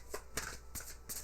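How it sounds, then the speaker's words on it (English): Tarot cards being shuffled by hand, delivered as three quick riffled bursts of papery flicking, close and fairly quiet, with no voices. "Let me shuffle some more."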